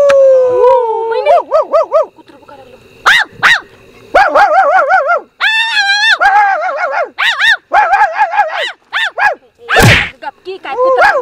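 A person vocally imitates a dog in a Marathi comedy scene, letting out loud, close wavering howls followed by a rapid series of yapping barks and yelps.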